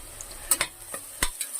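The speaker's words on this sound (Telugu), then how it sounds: "ఇప్పుడు ఆనియన్ ఫ్రై అవుతున్నాయి కదండి, అల్లం పేస్ట్ 2 స్పూన్లు వేసానండి నేను." Onions frying in a pan with two spoons of ginger paste just added, for a prawn fry biryani: a soft background sizzle broken by a few sharp scraping and tapping strokes of a spoon stirring, fairly quiet.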